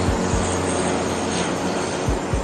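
Airliner engines running during the landing approach, a steady broadband roar filling the cockpit with a constant drone and a few low thumps, no voices over it.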